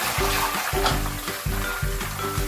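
Ginger-garlic paste sizzling in about half a cup of hot oil for a mutton Shinwari karahi, a steady close frying hiss with rhythmic low scraping strokes as it is stirred.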